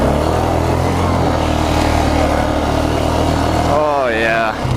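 A Yamaha Grizzly 600 ATV in two-wheel drive churns through mud with a loud, steady engine drone close by, and a voice cuts in near the end.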